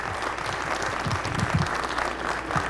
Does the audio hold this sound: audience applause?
yes